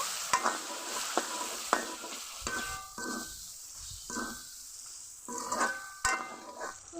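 Turmeric, masala and chili powders being stir-fried in a pan for a bean seed curry with dried fish: repeated scraping spatula strokes over a steady soft sizzle, close up.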